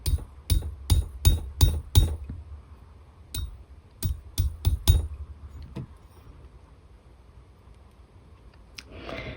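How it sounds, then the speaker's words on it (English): A hammer taps a wire-wrapped Chinese knot earring, struck in two bursts of five or six quick, bright metallic taps, each close and loud, followed by a few isolated taps and quiet handling. "I'm going to do one more tap out, and I'm only hammering right here in this area."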